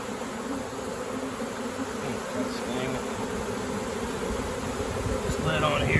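A captured honeybee swarm hums in a continuous, close-up buzz, with a few individual bees droning past and the overall hum swelling slightly toward the end.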